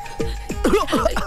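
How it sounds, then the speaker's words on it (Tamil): A man coughs a few times in quick, rough bursts, close and fairly loud, in a sad indoor scene from a Tamil film. "இருமல் வேற அவருக்கு."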